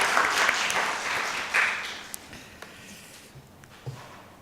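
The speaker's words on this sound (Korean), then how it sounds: "우리 하나님 앞에 영광의 박수 올려드리도록 하겠습니다" Congregation applauding in church during a Sunday morning service, a broad wash of clapping that starts fairly loud and fades over several seconds, with a few scattered claps lingering at the end.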